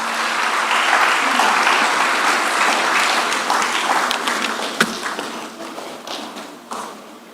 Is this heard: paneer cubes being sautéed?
no